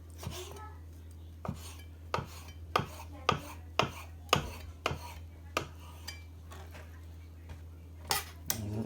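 A kitchen knife dices food into small, even cubes for a creamy chicken curry rice dish. The chops strike the board steadily about twice a second, close and crisp, with a person talking over them.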